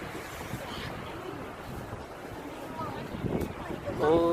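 Broad rushing wash of sea surf rolls continuously onto the shore at Pohang, South Korea, mixed with wind buffeting the microphone; a voice briefly speaks near the end.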